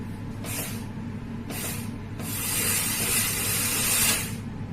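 An aerosol generator used for HEPA filter integrity testing releases a steady hiss of aerosol, with brief bursts at first, then building into a louder continuous spray before easing off.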